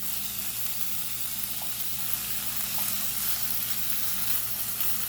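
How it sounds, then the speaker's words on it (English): Saltfish fries in a pan alongside onion, garlic and pepper, giving a continuous close, even sizzle and hiss that holds steady with no pauses and no speech. "just let the saltfish cook a little"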